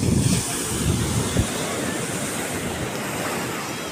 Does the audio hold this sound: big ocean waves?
yes